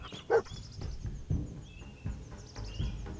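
A dog barks in a video game, a few scattered, separate barks at moderate level over quiet background game sound, with no voices.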